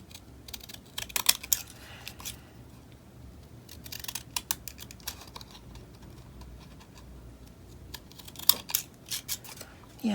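Scissors snipping paper to make a deckled edge for faux postage stamps, bursts of quiet close crisp cuts and rustling paper, uneven and intermittent.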